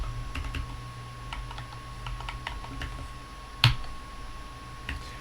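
Keys on a computer keyboard tap out a command in sparse, irregular clicks, close and fairly quiet, with one sharper louder keystroke near the end against a low steady hum.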